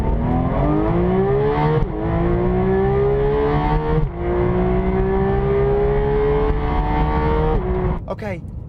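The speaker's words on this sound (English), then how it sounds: "that last 600 RPM, the noise, this sort of hard mechanical valve train noise that comes through, that is addictive" Porsche 991 GT3 flat-six revving through three rising gear pulls with hard mechanical valve train noise, loud and close, ending in a sharp shift.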